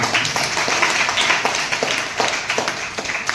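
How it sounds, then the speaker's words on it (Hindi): Loud, dense audience applause at a Hindi-language motivational event honoring a royalty achiever, many hands clapping steadily and close throughout. "जोरदार ताली आप सबके लिए"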